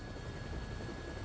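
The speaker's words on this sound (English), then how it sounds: "Looks like taking a helicopter was the way to go." A helicopter in the Dead Rising video game, a steady rotor drone with a faint whine that holds even and continuous for a moment, with no voices.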